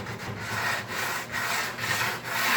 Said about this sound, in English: Kind of try to hold your sandpaper at a 45-degree angle.